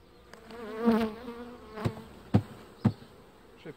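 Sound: honey bees being shaken into a nucleus hive

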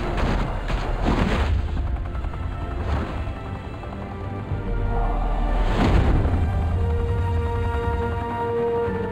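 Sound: gunfire in a shootout, from the video game Batman: The Telltale Series

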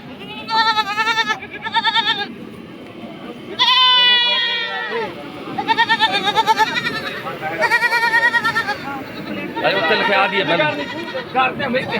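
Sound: goat bleating

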